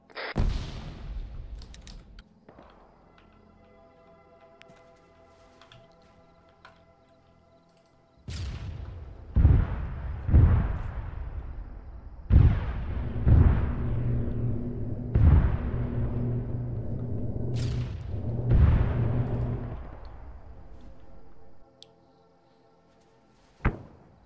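Grenade launcher rounds explode during a night attack on an outpost in the military shooter ArmA 3, a series of heavy booming blasts, some distant and some close, spaced a few seconds apart with rumbling tails.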